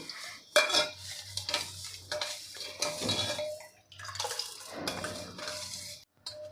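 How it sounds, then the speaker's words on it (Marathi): A spoon stirs sugar into milk in a pot, with soft clinks and scraping against the metal in uneven bursts and brief pauses, and no speech. "आपल्याला हे पूर्ण चमच्याने ढवळून घ्यायचं आहे साखर पूर्ण आपल्याला यामध्ये विरघळून घ्यायची आहे"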